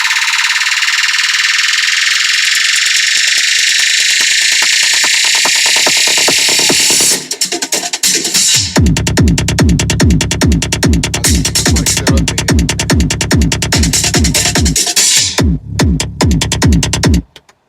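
Music through Audison car audio speakers fitted in a Suzuki Grand Vitara, a loud, bright sustained tone giving way to a pounding, rapid bass-heavy beat that plays steadily with brief breaks.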